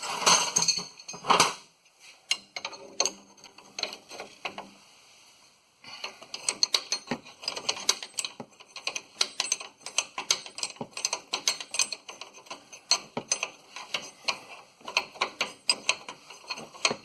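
Hand tools work on the suspension of a 2008 Ford F-150 during an upper control arm, ball joint and sway bar link replacement: rapid ratchet clicks and metallic clinks come in dense bursts, with a brief quiet pause partway through.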